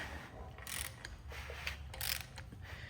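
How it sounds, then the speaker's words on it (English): An engine crankshaft fitted with a degree wheel is turned slowly by hand while checking cam timing, giving close, intermittent ratcheting and clicking bursts over a low mechanical hum. "I'm just going to crank this around and show you here."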